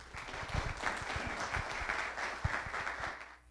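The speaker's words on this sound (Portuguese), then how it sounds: "Uma salva de palmas." Lecture audience at a talk on Brazilian Industry 4.0 regulation giving a round of applause, steady mid-level clapping from many hands with some closer claps, dying away at the end.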